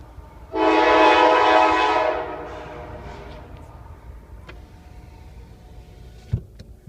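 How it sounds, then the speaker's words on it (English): A loud horn blast lasting over a second from a slow CSX freight train passing at night in western New York, followed by a low steady rumble and occasional clanks as the cars roll by slowly. "Got a slow-moving train."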